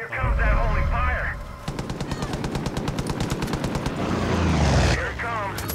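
Rapid automatic gunfire in the video game Far Cry 5, sustained bursts of close, loud shots with a steady rhythm, with players talking over it before and after.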